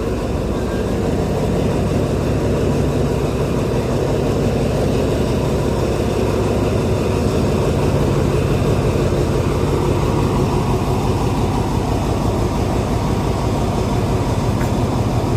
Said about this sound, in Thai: ด้านหน้าเหมือนมีรถไฟมานะ